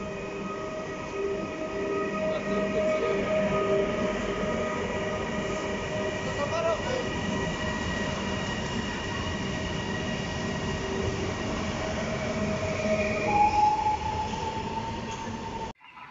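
A train rumbles past close by with steady rolling noise and metallic wheel squeals, lasting throughout before cutting off at the end.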